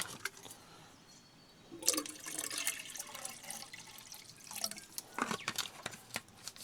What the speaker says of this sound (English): get the trusty old Jetboil, some water in there.